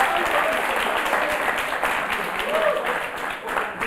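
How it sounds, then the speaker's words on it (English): A studio audience at a televised debate show claps continuously for the debaters. The applause is dense and even and carries on for several seconds, with a voice faintly audible underneath. "A round of applause for our debaters."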